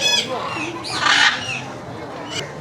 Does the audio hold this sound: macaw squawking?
yes